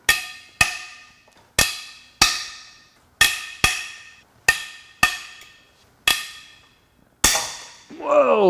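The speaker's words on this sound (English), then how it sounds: "Let's go ahead and crack these head bolts loose." Head bolts on a Nissan VQ38 3.8L V6 engine from a Frontier are cracked loose one after another: about ten sharp, loud metallic snaps, each decaying quickly, spaced irregularly, ending in a brief rougher sound.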